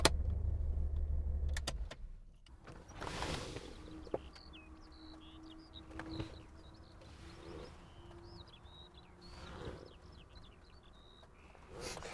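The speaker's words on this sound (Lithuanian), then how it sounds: "bandom trečią kartą važiuoti, jau perkuriam kelis kartus automobilį, cilindrai neatsigauna, vis tiek dar nepriima gazo" A BMW 850 V12 with a manual gearbox idles roughly at close range for a couple of seconds and then cuts out. A few mechanical clicks and a door-like knock follow, with birds chirping faintly in the background.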